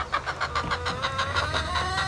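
Chickens clucking in their garden pen, a series of short rhythmic clucks and calls at close range, steady and moderately loud with no talking.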